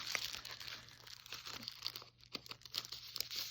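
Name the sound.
handling a Halloween sticker sheet while planning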